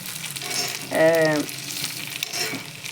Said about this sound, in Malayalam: ഇതിപ്പോൾ അരിപ്പൊടിൻ്റെ പൊരിക്കലാണ്